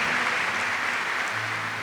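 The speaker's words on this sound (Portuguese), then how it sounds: "Eu queria que você aplaudisse quem está do seu lado" A church congregation in a Maronite cathedral clapping during Mass, a soft, even patter of many hands blending into a continuous wash, moderately distant and without talk.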